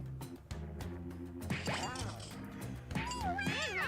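A synthetic cat meow alert chirps out repeatedly during a livestream, rising and falling tones layered over a thumping musical backing, fairly loud and close.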